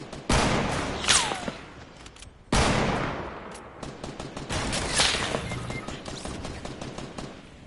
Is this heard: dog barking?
no